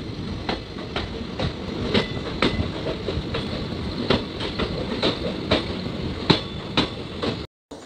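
Kannur Express train rolling along rails on a ghat section, with a steady rhythmic clickety-clack of wheels over rail joints under a continuous rumble, heard from on board without talk.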